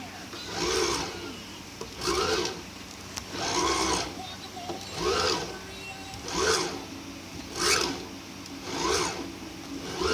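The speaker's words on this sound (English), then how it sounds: "now it's just a loose wheel. And this is what happens when it's under fast rotation." Thrustmaster TMX racing wheel spinning loose with no motor tension under fast rotation, giving a rhythmic series of rasping, whirring bursts roughly every second, close and moderately loud.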